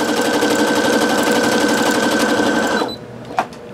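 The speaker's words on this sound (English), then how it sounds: "I'm going to be sewing along" A Brother SE625 sewing and embroidery machine stitching at a steady rapid rhythm with a loud, close, even mechanical whir, then it stops abruptly and a single faint click follows.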